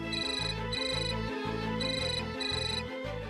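A phone ringtone repeats in a steady looping electronic pattern, rhythmic beats and bright tones cycling evenly, moderately loud with no talk over it.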